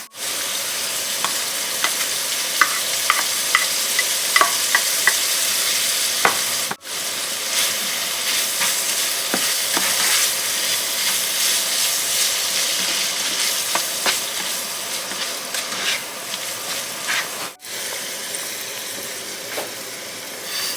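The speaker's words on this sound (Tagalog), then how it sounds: "Yung vegetables, i-mix ko yan." Vegetables are stirred and mixed in a frying pan, with steady close sizzling throughout and occasional scraping and clinking of a utensil against the pan, no voices.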